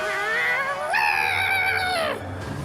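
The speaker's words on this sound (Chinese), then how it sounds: "快看，一只小猫！" A small cat gives one long, drawn-out meow that rises in pitch and holds strong and clear before it falls away, heard close up against a quiet background with no speech.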